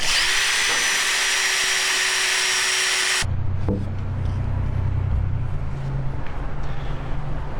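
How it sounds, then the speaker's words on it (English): A power drill whines steadily and loudly while boring holes in a cedar hot tub cover frame, then cuts off abruptly, leaving a lower mechanical rumble with faint clicks and knocks. "Now that we've drilled all our holes"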